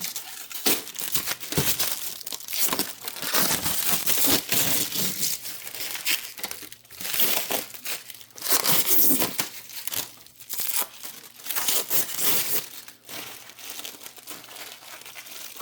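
Packaging being torn and peeled off a rally bike, a continuous loud crinkling and tearing of plastic and wrap, close up and irregular, with no talking.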